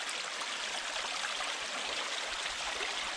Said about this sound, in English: Little streams coming down off the fells into Bollihope Burn and all feed into the River Weir